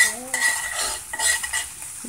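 Garlic browns in a frying pan while a utensil stirs it, quick close scrapes and metallic clinks over a light sizzle.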